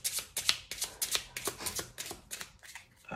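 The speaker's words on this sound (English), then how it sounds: "and then give them a shuffle." Playing cards are riffled and shuffled in a quick series of crisp, fluttering bursts, close and fairly quiet, with no voices.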